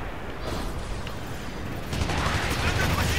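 Grenade explosions in Gundam Evolution gameplay on Xbox Series X: a dense, continuous barrage of blasts and gunfire that grows louder and busier partway through.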